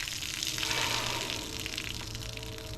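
Water gushes steadily out of the dump valve of a scuba BCD during post-dive rinsing, a close, continuous splashing trickle with no pauses.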